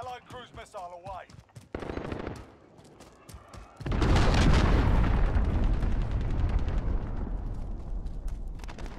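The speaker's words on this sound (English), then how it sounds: "Allied cruise missile away." Cruise missile strikes in a video game: a radio-style voice and sharp rattling fire give way to a sudden heavy, roaring blast that rumbles on loudly for several seconds amid crackling debris.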